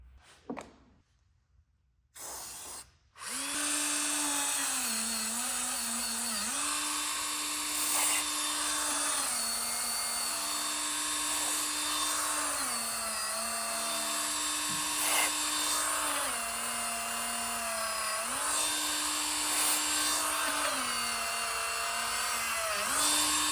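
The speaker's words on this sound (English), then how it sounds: "So I'm going to work on that a little bit with the Dremel tool." A Dremel rotary tool grinds at close range while cleaning a part from a 1963 Corvair engine, a high buzzing whine that keeps dipping and rising in pitch as pressure changes, running almost continuously after a few short starts.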